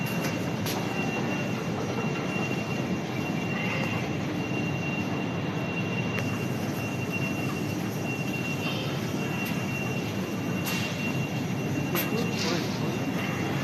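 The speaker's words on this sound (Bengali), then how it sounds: "মেট্রো স্টেশন করেছে কলকাতা মেট্রো, এই এয়ারপোর্টের যে মেট্রো।" A Kolkata airport metro train runs with a steady rumbling roar and faint wheel squeal heard from inside, constant and fairly loud throughout, with a few short clicks.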